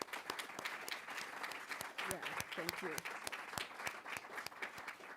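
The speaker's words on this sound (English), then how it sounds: "I really wanted us to acknowledge that with a round of applause" An audience at an evening reading series applauds in a steady patter of clapping for several seconds, with a brief spoken voice over it.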